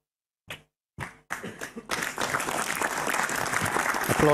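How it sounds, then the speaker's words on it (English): At a snooker match, an arena audience breaks into applause for the frame ball: a few isolated claps, then the sound swells quickly into sustained, loud clapping from a large crowd. "Applause for the frame ball."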